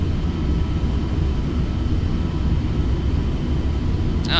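A Boeing 737 airliner cruising in Flight Simulator: a steady, loud, unbroken rumble of engine and cabin noise with no voices over it.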